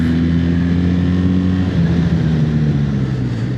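A BMW R1300GS motorcycle slowing under rear-brake-only braking from speed, loud steady engine drone with its pitch gradually falling, plus wind rush, close and continuous.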